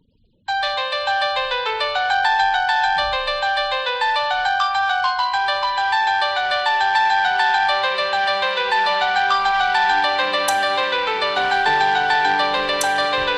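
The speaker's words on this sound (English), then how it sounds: "Here is the ringtone." A bright, upbeat melodic phone ringtone plays on its own, steady and fairly loud, with a tune of repeating electronic notes running continuously for over twelve seconds after a brief silence.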